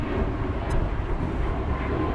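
A Boeing 737 MAX 8 departs DFW Airport, a steady, moderately loud jet rumble heard from a distance with no talk over it.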